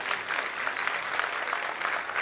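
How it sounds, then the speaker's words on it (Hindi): Brief, fairly faint applause rises from a seated audience at a motivational sales seminar, a short burst of many hands clapping with a slightly pulsing rhythm. "इनके लिए तालियां होनी चाहिए भाई साहब"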